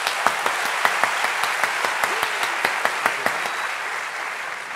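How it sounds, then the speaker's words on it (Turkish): Rhythmic audience clapping at an illusion show, a steady beat of claps carried on a continuous wash of applause, fairly even in loudness throughout. "Esas şimdi alkışları almak istiyorum."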